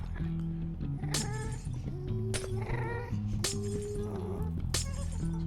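Glass blocks shatter in Minecraft, four sharp crashing breaks spaced about a second apart, heard loud over steady background music with melodic tones throughout.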